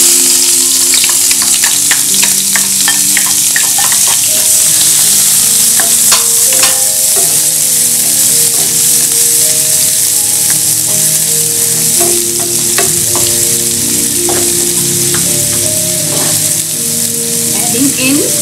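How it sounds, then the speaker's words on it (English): Onions sautéing in hot corn oil in a pot, a loud continuous close-up sizzle and crackle with occasional clinks and scrapes of stirring, steady throughout with no talk. "I'm going to saute the onions first"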